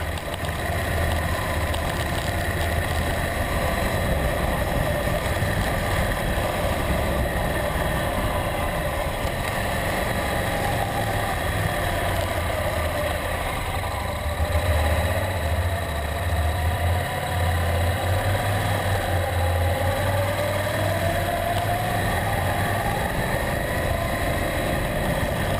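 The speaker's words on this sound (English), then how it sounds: "I'm glad I chose a motorbike and not a car for this trip." A Honda NC700X motorcycle runs along a narrow mountain road near Arguineguin, its engine a steady, even drone that holds at a moderate level throughout with no voices.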